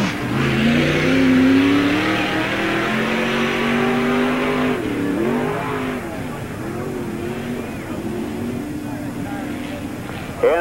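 A race car at the 1997 NASCAR Busch All Star Tour event drones around the dirt half-mile Tri-City Speedway track, its engine steady and fairly close at first, then receding under an announcer's talk.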